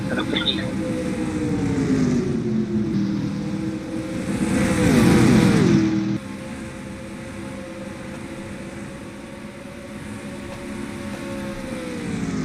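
Engines of 1987 stock cars, Fords, a Chevy and a Pontiac, roar in a NASCAR racing simulation game, a steady loud drone that swells as cars pass and then settles, with a commentator talking over it.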